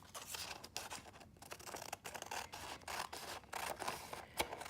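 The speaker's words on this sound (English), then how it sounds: "With kitchen scissors," Kitchen scissors snip through paper in quick, close bursts, with crisp rustling and sliding between cuts.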